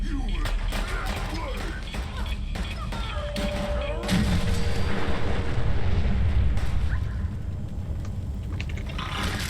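A nuclear explosion in the video game Fallout 4 roars as a dense, rumbling blast, swelling louder midway amid crackling debris, scraping and gunfire-like bursts, continuous and loud throughout.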